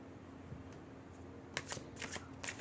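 Tarot cards shuffled by hand during a pick-a-card reading, faint low hum for the first half, then several quick crisp riffling bursts close by with no talk.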